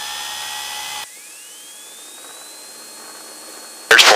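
A small training airplane's engine runs at full takeoff power, a steady, loud drone with a whining tone that climbs, then a sudden harsh burst at the end.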